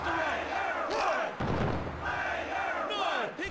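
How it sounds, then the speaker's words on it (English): Roaring arena crowd noise from the WWF War Zone wrestling video game, a dense continuous wash of cheering and shouting that stays loud throughout with a brief dip in the middle. "The crowd goes crazy."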